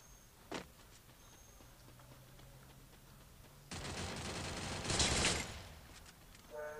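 Rapid bursts of gunfire in the game Free Fire, a sharp single shot followed later by a dense, loud volley of automatic submachine gun fire that trails off.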